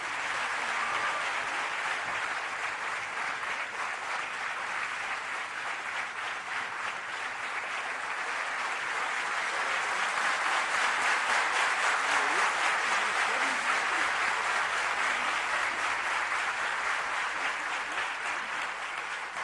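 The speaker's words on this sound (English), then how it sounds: "Another round of applause," A large seated audience applauds at length during a college ceremony in Mumbai, the dense clapping rising slightly in the middle and continuing steadily without any voices.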